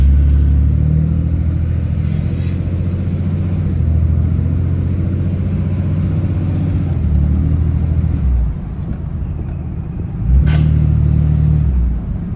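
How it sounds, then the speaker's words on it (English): A Cummins 6.7 truck with a faulty transfer case grinds while driving at low speed under throttle. A loud, continuous low drone dips briefly near the end, then swells again as the gas is reapplied. "Grinding noise. It sounds terrible."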